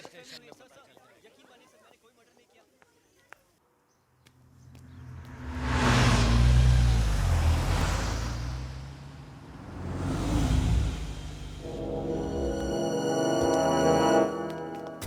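A car approaches and drives past with a rising engine roar that peaks loudly, dips, then swells again as it revs before music takes over; faint voices and ambience precede it.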